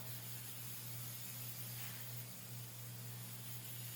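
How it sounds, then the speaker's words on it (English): A continuous hissing spray of glue activator from an aerosol can onto blue tape, steady and close, over a low constant hum. "spray the activator down on the blue tape itself."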